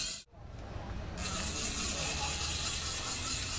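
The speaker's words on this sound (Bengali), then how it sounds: "এই তো তালা ঘুরছে, বড় আছে।" A fishing reel on a rod spins out as a big fish takes line at a pond, a fast, steady ratcheting buzz that starts after a short thump and then holds, loud and close.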